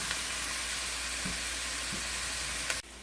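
Bell peppers sizzle steadily in a hot pan, a loud, continuous hiss close by, with a few faint stirring knocks, cutting off abruptly just before the end.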